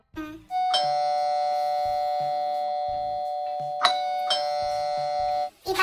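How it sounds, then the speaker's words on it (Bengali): A doorbell chimes twice, each ring a long sustained electronic melody, loud and close in a quiet home with no talk over it. "বারে বারে কলিং বেল।"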